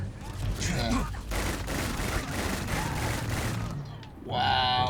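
Rapid rifle fire in the Starfield Shattered Space DLC, a sustained loud stream of shots mowing down enemies over about four seconds, ending in a brief lull before another burst.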